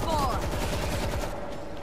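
Rapid automatic gunfire in the zombie shooter World War Z, a dense burst of repeated shots that thins out after about a second, with frantic shouting mixed in.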